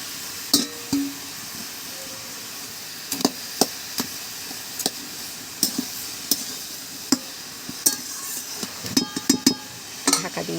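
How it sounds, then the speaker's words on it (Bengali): A fish head fries in a pan with faint low sizzling, broken by frequent sharp clinks and scrapes of a utensil stirring against the pan. "মাছের মাথাটা দিয়ে দেব।"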